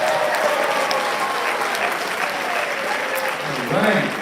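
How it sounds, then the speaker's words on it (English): Sustained audience applause at a Kwanzaa show, a dense, even wash of clapping from a crowd that holds steady and then briefly swells near the end. "give them a round of applause"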